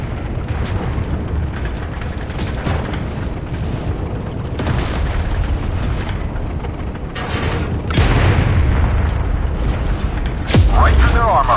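Tank cannon shots from the Jagdpanzer E 100 in the Tank Company video game: several heavy booming blasts over a rumbling engine and battle ambience, with game voice lines spoken over the action.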